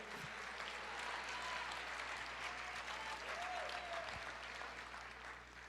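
A church congregation applauds during a sermon, with sustained clapping at moderate volume over a faint hum.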